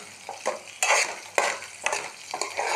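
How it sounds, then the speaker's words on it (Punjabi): Chopped green chillies fry in hot oil for a dhaba-style chilli masala, with a spoon stirring them in repeated scraping bursts over a steady close sizzle. "ਆਪਾਂ ਮਿਰਚਾਂ ਨੂੰ ਚੰਗੀ ਤਰ੍ਹਾਂ ਨਾਲ ਚਲਾਵਾਂਗੇ ਤਾਂ ਜੋ ਇਹ ਚੰਗੀ ਤਰ੍ਹਾਂ ਨਾਲ ਫਰਾਈ ਹੋ ਜਾਣ"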